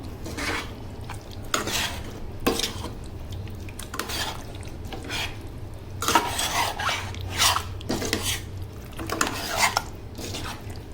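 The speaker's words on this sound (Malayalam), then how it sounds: "നമുക്ക് നമ്മളെ കപ്പ അതിലോട്ടൊന്ന് ചേർത്ത് കൊടുക്കാം നല്ലോണം ഒന്ന് മിക്സാക്കി" A spoon scrapes and knocks through tapioca (kappa) being mixed into meat masala in a pot for Malabar-style kappa biriyani, with repeated close scraping strokes and clatter against the pot's sides at an uneven rhythm, no talking.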